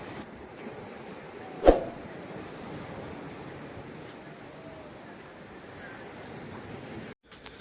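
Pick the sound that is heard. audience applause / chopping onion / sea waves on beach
sea waves on beach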